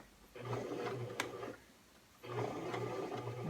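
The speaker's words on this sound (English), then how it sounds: "back tack the stitching over the edge of the pocket so it goes into just the bag itself" A home sewing machine back-tacking stitches across the edge of a pocket on a fabric library tote bag, with two close, even bursts of rapid mechanical whirring separated by a brief pause.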